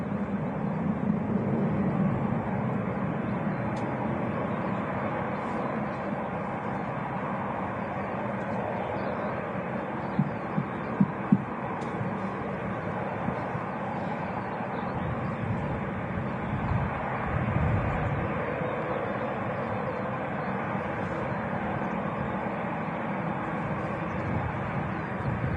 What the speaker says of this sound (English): Here we go on the taxi in the Saudi 787